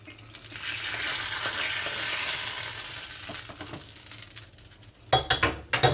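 Hot oil crackles and sizzles steadily as spices hit it, with a few sharp metallic clinks of a utensil against the pan near the end.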